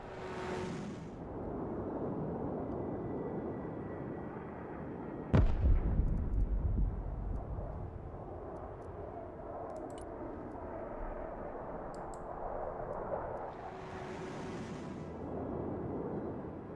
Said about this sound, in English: Airstrike is go for effect.